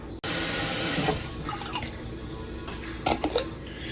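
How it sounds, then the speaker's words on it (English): A little water poured into jarred curry sauce in a pot for curry meatballs: a short, steady splashing pour with a few small drips and clinks toward the end. "I'm going to add a little bit of water to it."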